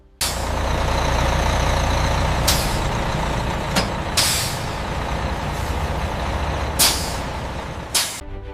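Fully loaded truck trailer pulling away from a pasta factory, with a loud, steady diesel engine rumble throughout and several sharp hissing air brake releases.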